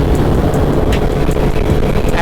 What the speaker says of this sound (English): It's a lot of traffic.